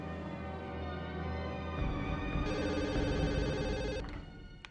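A telephone rings indoors in an Indonesian drama scene, a sustained electronic ringtone with repeating tones that shift pitch partway through and then stop, with no talking.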